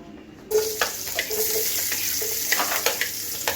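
Onions hit a hot pan and start frying for a crab claw dish, with a sudden sizzle that holds steadily while a utensil stirs and scrapes in short bursts.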